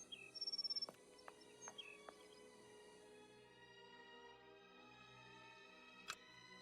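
Inside the game Sherlock Holmes: Nemesis, an odd bird call chirps in a quick fluttering burst, then gives a few sharp, spaced clicks over a steady hum, before a final faint click.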